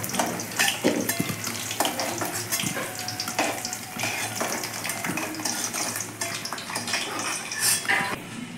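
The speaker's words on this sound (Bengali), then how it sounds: "ভালো করে নাড়াচাড়া করে আলুগুলো ভেজে নিলাম" Potatoes frying in oil for a goat curry, stirred steadily, with a continuous close sizzle broken by scraping and clinks of a spatula against the pan throughout.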